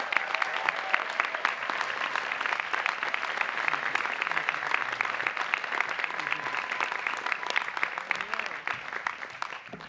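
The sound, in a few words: audience applause for honorary degree recipients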